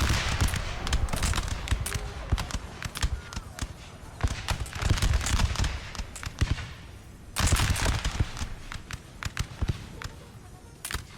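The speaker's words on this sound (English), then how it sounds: "That was a good hit from the artillery." Artillery fires in a Napoleon Total War siege battle at an imperial port, a dense stream of sharp cannon booms and crackling volleys that come in clustered bursts over a constant rumbling din, with no voices heard.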